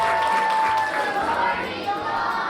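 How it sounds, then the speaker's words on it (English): A crowd of children and adults cheers and applauds at a Toronto Blue Jays press conference, a sustained wash of clapping and shouts heard at moderate distance with some voices mixed in. "I'm going to need a really big cheer and a big applause for your manager of the Toronto Blue Jays."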